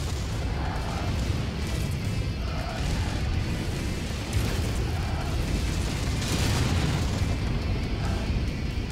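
Battle mechs firing weapons, including an AC-10 autocannon, during a MechWarrior 5: Mercenaries fight; a dense, steady rumble of booming blasts and bursts runs throughout, loud and continuous, with a brighter burst near the middle.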